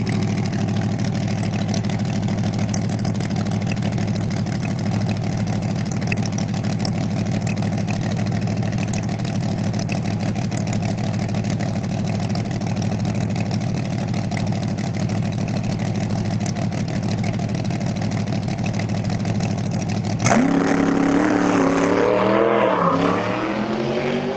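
A nitrous drag racing car at the US Street Nationals 2025 at Bradenton Motorsports Park drones loudly and steadily for about twenty seconds during a shakedown run with nitrous issues, then abruptly shifts into a rising, wavering engine sweep.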